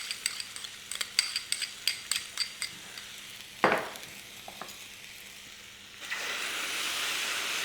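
Kway teow rice noodles are tossed in a wok with soy and oyster sauce, starting with a run of sharp metallic spatula scrapes and clanks, then a close, steady sizzling hiss takes over.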